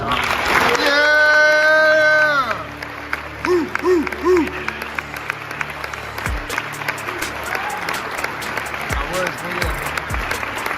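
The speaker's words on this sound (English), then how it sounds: "join me in a round of applause for this guy" An audience claps and cheers in a loud burst at the start, then the noise drops under busier mixed sound with talk and scattered sharp hits.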